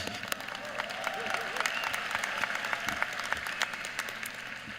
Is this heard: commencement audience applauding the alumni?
yes